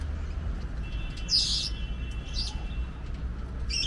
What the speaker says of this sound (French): Ça c'est le perroquet youyou ou youyou du Sénégal.